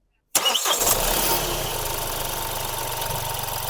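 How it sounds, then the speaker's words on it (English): A Kia Rio diesel car with a DPF fault and low-pressure problem cranks and fires, then settles into a steady, close, loud idle with no talking. "start the car for me, please"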